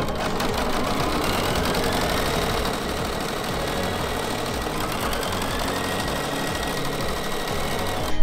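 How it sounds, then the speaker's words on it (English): An embroidery machine sews stitch placement lines for vinyl pieces in the hoop, producing a steady, close, rapid mechanical whirring and needle rattle with no pauses. "we're going to sew stitch sequence 3 to stitch placement lines for the vinyl pieces"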